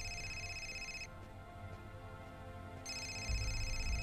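Telephone ringing in the video game Indigo Prophecy, an electronic ring tone that sounds, pauses briefly, then rings again, steady and clear with a low hum underneath.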